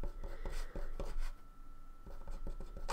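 A pen scratches across paper in short, irregular strokes, close and fairly loud, with brief pauses between bursts of writing and no talking.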